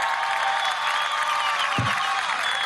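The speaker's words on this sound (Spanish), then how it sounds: "Vamos a dar un aplauso a Diosdado Cabello Rondón." A large crowd claps steadily and densely for Diosdado Cabello at a Venezuelan political rally after the 2017 municipal election victory, a continuous wash of applause with no break.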